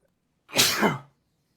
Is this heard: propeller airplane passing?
no